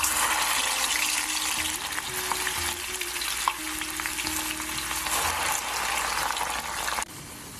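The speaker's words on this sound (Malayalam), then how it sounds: "ഞാനിപ്പോൾ ഇതിനെ ഇട്ട് വറുത്തെടുക്കാൻ പോവുകയാണ്" Sliced okra frying in hot oil in a pan for vendakka kichadi, a continuous close sizzle with intermittent stirring scrapes and a brief knock near the end.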